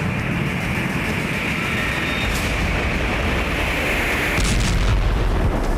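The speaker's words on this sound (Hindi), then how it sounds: "रूस ने खार्किव के लिपित्स्की क्षेत्र पर धमाका किया।" A Russian guided bomb, reported as a 3-ton FAB-3000, strikes a building in the Lipetsky area of Kharkiv in war footage. A heavy, rumbling blast roar fills the clip, with a sharper burst swelling near the end and no voices.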